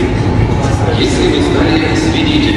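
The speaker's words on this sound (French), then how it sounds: "Le métro de Novosibirsk." A Novosibirsk metro train runs loudly up close, with a constant heavy rumble and a rushing, screeching high hiss, while someone talks over it.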